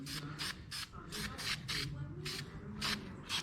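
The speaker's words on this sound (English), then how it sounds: "Always test your spray can there, make sure it's going to spray" A spray can sprays paint onto a Range Rover Supercharged wheel in short bursts, about nine quick hissing puffs in uneven rhythm, close and fairly loud over a low background hum.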